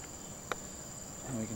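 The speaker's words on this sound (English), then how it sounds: "And we can hear the insects." Insects chirp steadily outdoors at a quiet, deserted quarry in Singapore, a thin continuous high buzz with a brief click and a faint low murmur toward the end.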